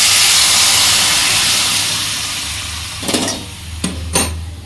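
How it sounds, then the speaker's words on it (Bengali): Hot water poured into a light rohu fish curry in a pan, giving a loud steaming hiss that slowly fades, followed by a few short bursts of sizzling spatter near the end. "গরম জলটা দিয়ে দিচ্ছি"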